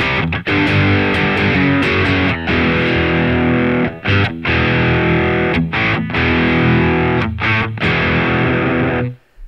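An electric guitar through a Boss Katana Mk 2 amp with heavy overdrive rings out loud and sustained, chords crunching with thick distortion, broken by a few brief pauses.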